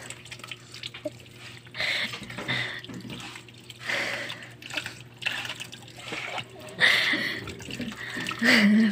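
Radishes are washed under running water, with splashing and trickling coming in uneven bursts close by and people talking between the splashes.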